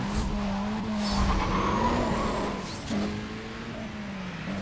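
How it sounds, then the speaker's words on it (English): Race cars in the Need for Speed video game roar loudly with a sustained engine drone that shifts pitch as they rev, accompanied by tire squeal and skidding. "let's rev the engines"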